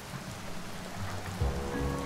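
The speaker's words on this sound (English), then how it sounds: "It's raining in the desert." Rain falling in a desert setting in the wild west strategy game Westslingers, a steady even hiss of drops with low rumbling underneath, continuous and alone.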